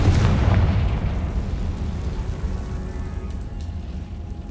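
A Confringo spell explosion in Hogwarts Legacy lands as a loud, deep boom right at the start, then trails into a long rumbling decay with crackling debris, with no voices.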